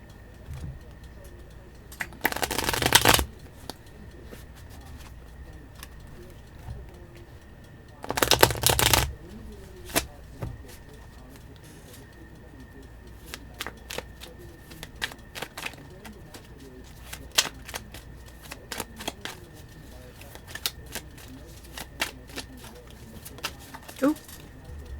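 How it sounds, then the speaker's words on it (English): A tarot card deck is shuffled in two loud riffling bursts, followed by quieter card taps and handling, while birds coo softly in the background. "And then this deck, I just like to shuffle it."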